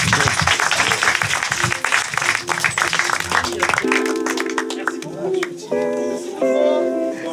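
A live podcast audience applauds warmly in a dense burst of clapping that fades partway, giving way to tonal music and a bit of voice toward the end.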